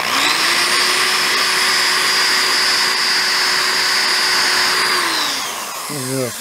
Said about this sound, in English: a Scotch-Brite pad that we're using to buff it up with